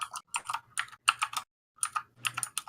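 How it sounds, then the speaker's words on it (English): Loud mechanical keyboard typing in close, clattery bursts of rapid keystrokes, broken by a short pause midway, with no voices. "It's so loud. It's a mechanical keyboard."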